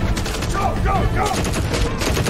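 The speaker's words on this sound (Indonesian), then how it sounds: "dari arah luar terlihat John beserta timnya sudah sampai di lokasi dan terjadilah baku tembak." Gunfire in a gunfight, rapid continuous bursts of shots loud and close throughout, with shouted voices mixed in.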